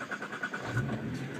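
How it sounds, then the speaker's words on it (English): A Nissan R35 GT-R running a Syvecs ECU cranks and starts after waiting for oil pressure, a moderately close starter whir followed by the engine catching and settling into a low idle, with no talk over it. "With the engine trips at the moment, you might notice it took a little bit longer to start, which I can show you now."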